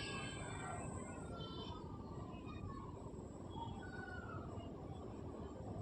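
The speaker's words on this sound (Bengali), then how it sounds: "দেখো যেভাবে আমি সেলাই করছি ঠিক এইভাবে সেলাই করে নিতে হবে।" Quietly, a sewing machine stitches the seam of a cloth nightie, giving a low, continuous mechanical rumble and whir with faint higher tones drifting over it.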